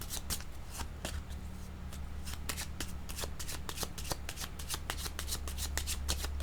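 A deck of tarot cards is shuffled in a run of quick, crisp riffles and flicks, close and clear over a low steady hum, with no talking.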